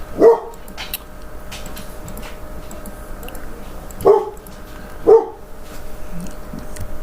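A dog barks three times, close and sharp: one bark at the start, then two more spaced about a second apart later on, against a quiet indoor background.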